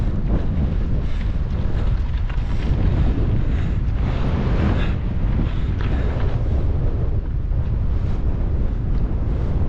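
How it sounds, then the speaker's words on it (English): Strong gusty wind on a mountain pass buffets the microphone of a cyclist, a constant loud roar and rumble, no voices. "All of a sudden, that wind just came up."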